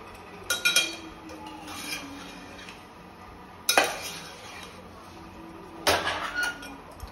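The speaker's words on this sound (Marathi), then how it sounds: "जेवढं परतवणार तेवढा मोकळा होणार भात" Rice for Khandeshi khichdi sautéed and stirred in a pan, three separate scraping spoon strokes with metallic clinks over a steady low background hum, close by.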